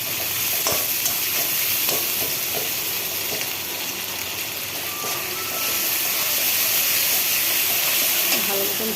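Onion and garlic fry in a pan with a loud, constant hiss and sizzle, close up, with occasional stirring scrapes and no voice heard.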